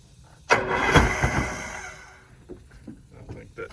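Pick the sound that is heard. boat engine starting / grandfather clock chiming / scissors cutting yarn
boat engine starting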